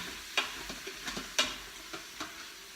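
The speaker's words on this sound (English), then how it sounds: "you're gonna just saute for a couple minutes until it starts to get brown" Ground meat sautés in an Instant Pot, a soft continuous sizzle broken by several sharp utensil scrapes and taps at an uneven pace, close and fairly quiet, with no talk.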